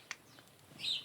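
Sparrows chirp inside a greenhouse, a couple of brief, quiet tweets followed by a sharper burst of high chirping near the end.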